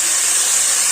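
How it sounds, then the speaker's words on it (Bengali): Potatoes tossed lightly with salt and turmeric frying in hot oil, a steady dense sizzle held at even loudness for the whole second before cutting off abruptly at the end. "আলু ভাজছি।"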